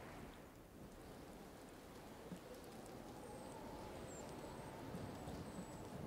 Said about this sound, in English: it's very, very rainy today, isn't it?